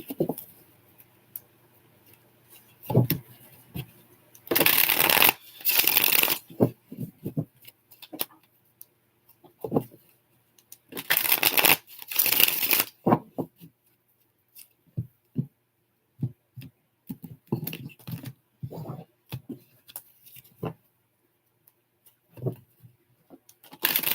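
A deck of oracle or tarot cards is shuffled in a quiet room, with two longer bursts of riffling and scattered soft taps and shuffles between them, close and fairly faint.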